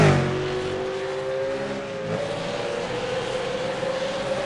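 A V8 Supercar race car at Watkins Glen roars past in a steady, loud engine note that shifts pitch as it passes, with a sustained drone throughout and no talking.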